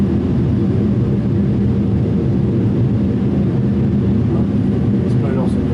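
Airbus A320 thrust reversers roaring on the runway after touchdown in a flight simulator game, a loud, steady broadband rumble held for the whole stretch, with voices faintly present.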